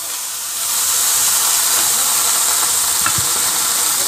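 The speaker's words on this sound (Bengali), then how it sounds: "তেলটা গরম হওয়ার পরে আমরা প্রথমেই বেগুনটা ছেড়ে দিচ্ছি। কেটে রাখা বেগুনগুলো আমি সমস্তগুলো ছেড়ে দিলাম" Chopped eggplant pieces go into hot oil for a Bengali fried eggplant dish and set off a loud, steady, close sizzling hiss that starts about half a second in and continues unbroken.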